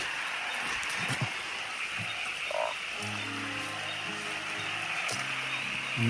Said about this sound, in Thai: เสียงอึ่งยาง